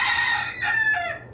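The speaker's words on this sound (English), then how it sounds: "Chickens." A rooster crows once, a loud, close, drawn-out cock-a-doodle-doo in several rising and falling segments, heard alone without talk.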